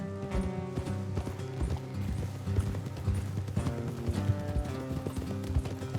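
Horse hooves clip-clop at a steady riding pace in Red Dead Redemption 2, close and continuous, with mechanical creaks of tack and a soft whinny underneath.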